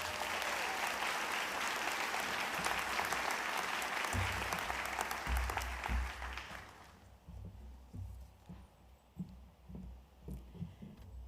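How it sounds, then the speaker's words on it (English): Audience applause at a college graduation ceremony, a sustained dense roar of clapping that fades out after several seconds into quieter room noise and scattered claps. "Let's give them another round of applause."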